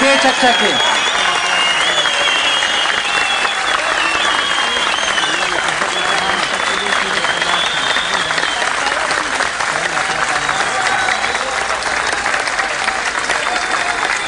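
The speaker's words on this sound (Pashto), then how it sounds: "ښې چکچکې" A Pashto poetry event audience claps continuously, a thick, even wash of applause and crowd murmur that holds at the same level from start to finish.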